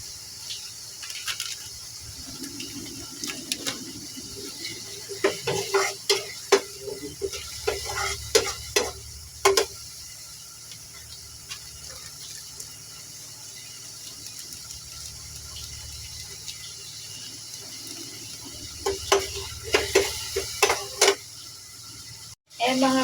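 Chicken nuggets frying in a pan, giving a steady close sizzle with intermittent scraping and clattering as they are turned, and a voice talking over it at times.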